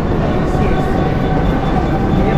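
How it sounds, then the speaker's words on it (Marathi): The Nagpur–Madgaon special AC express train runs at speed, heard from inside as a loud, continuous, dense rumble with no breaks. "नाही एसी ट्रेन आहे."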